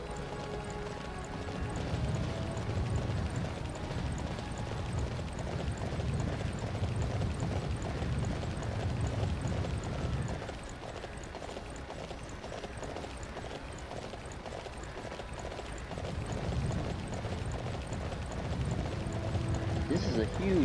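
Steady clip-clop of horse hooves at a quick, even rhythm in the video game Dynasty Warriors 9 runs throughout, with a voice talking over it and a continuous background hum.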